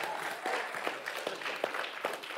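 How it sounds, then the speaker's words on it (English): A church congregation clapping together during worship, with steady, fairly rhythmic claps that come out as distinct accented beats over a bed of scattered handclaps, moderately loud in a reverberant room. "Everybody clap."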